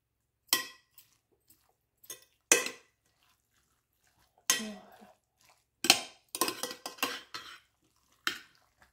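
Spoon stirring an exotic rice salad in a bowl, giving scattered clinks and scrapes against the dish in short irregular bursts with quiet gaps, close and fairly soft.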